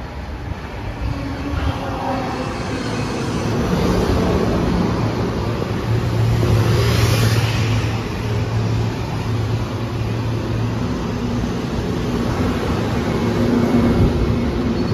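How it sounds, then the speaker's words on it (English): An M3 commuter train rumbles steadily into Fleetwood Station, Mount Vernon, New York, a continuous loud mechanical roar with low hum and rattling, no voices. "Oh, the train's here. That's it. Here comes an M3."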